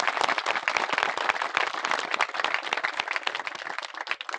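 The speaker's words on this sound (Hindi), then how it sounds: "एक बार सगले अतिथियों लिए जोरदार ताली बजा दो सारा का सारा" A crowd claps hard and steadily for guests at the opening of a village cricket tournament, dense outdoor applause running the whole time without a break.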